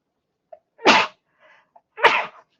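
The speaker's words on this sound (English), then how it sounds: "I need to sneeze." Two sharp sneezes a second apart, loud and close, with a faint breath in between.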